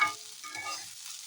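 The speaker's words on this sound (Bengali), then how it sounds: "আমার আলু ভাজা চলছে, এবার আমি এখন ফ্লেমটা হাই করে দিয়েছি।" Potatoes frying in a pan over a high flame, giving a short burst of close, bright crackling sizzle.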